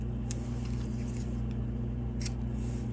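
Scissors snipping the center of folded fabric for a zipper wallet, two brief, sharp cuts over a constant loud machine-like hum.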